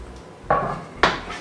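Cubes of squash drop into a pot for a velouté, giving two distinct clattering thuds about half a second apart, each followed by a brief rattle and settling, close and fairly loud with no talk.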